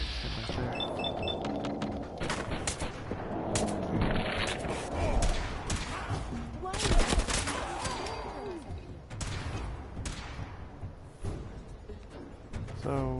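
Gunfire in a tense real-life encounter, a burst of sharp loud cracks and booms clustered through the middle, mixed with rustling, handling noise and brief voices.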